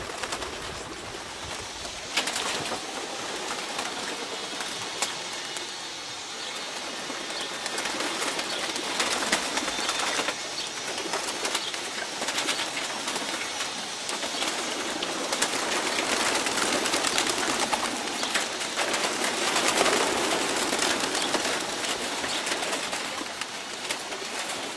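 Pigeons cooing and fluttering around a loft, a continuous busy background of birds with occasional wing flaps, no talking.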